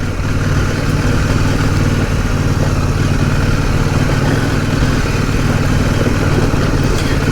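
A CFMOTO 800 MT Explore motorcycle engine running at very low revs, around 2000 rpm, giving a steady, loud, close mid-pitched rumble with a slightly uneven, chugging pulse.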